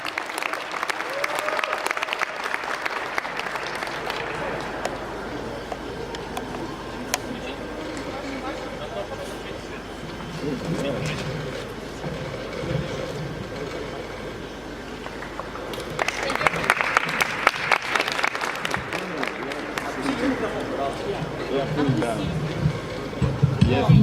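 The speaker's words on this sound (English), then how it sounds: "Please give a round of applause to Kamilla." An audience applauds a candidate at a university debate event, with clapping filling the room at the start, fading into murmuring and talk through the middle, then breaking out again loudly toward the end.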